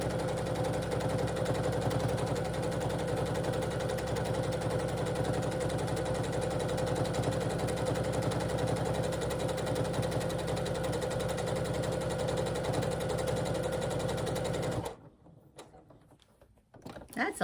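A sewing machine stitches a quilted Advent box bag, running as a loud, steady mechanical rumble with a fast rhythmic pulse for about fifteen seconds before stopping abruptly, leaving quiet room tone.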